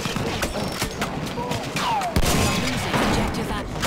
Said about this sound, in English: Oh, that's a field gun.